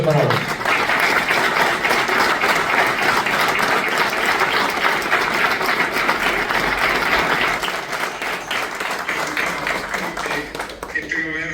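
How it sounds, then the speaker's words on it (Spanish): A large audience at a Renault Gordini 12 65th anniversary event bursts into loud, sustained applause, a dense clapping that holds strong for several seconds before tapering off slightly. "Este aplauso es para vos"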